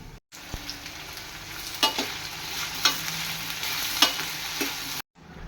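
Ivy gourd stir-fry cooking in a pan: a steady close sizzle of frying with several clinks and scrapes of a spatula stirring, and no one speaking.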